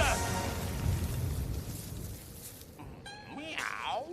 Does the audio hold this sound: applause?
no